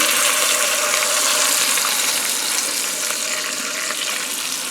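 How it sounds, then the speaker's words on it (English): Liquid gushes steadily from a container over a roast beef in a home kitchen. A continuous bright splashing pour runs close and fairly loud for several seconds without voices. "Now you're gonna pour this on top of the meat."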